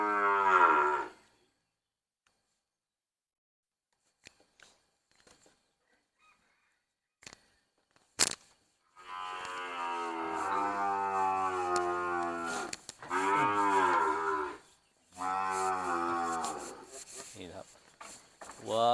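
Cattle in a pen, small-framed beef calves, low and medium-pitched mooing: one loud call at the start, then after a quiet stretch several long, harmonic moos, some overlapping, close by.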